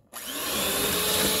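A kitchen blender starting up to grind pineapple for homemade ice cream, kicking on abruptly after a brief silence into a loud, steady, close whirring roar that holds to the end.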